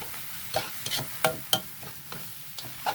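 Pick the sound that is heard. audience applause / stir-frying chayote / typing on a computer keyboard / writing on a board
stir-frying chayote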